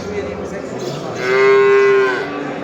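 A dairy cow at a live animal market in Kahramanmaraş gives a single loud, sustained moo midway, over faint crowd murmur in the background.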